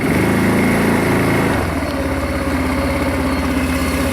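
A Linhai M150 utility quad bike engine revs steadily up close, then shifts to a lower, throbbing tone as the machine moves off in first gear, with no talking.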